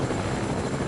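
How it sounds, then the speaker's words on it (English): Helicopter in the Battle Lab video game, a loud, dense, continuous rotor and engine roar filling the whole moment with no pauses. "We got a zombified chopper."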